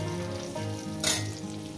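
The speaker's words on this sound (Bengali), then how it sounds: "বেগুনগুলো আগে ভেজে নেব" Eggplant pieces frying in oil for a tomato-eggplant mash: a soft, continuous sizzle sits under a steady low hum, with one brief louder hiss burst midway.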